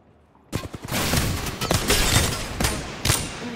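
Gunfire in Apex Legends starts abruptly, a quick cluster of close shots followed by a sustained barrage with heavier blasts punching through at intervals.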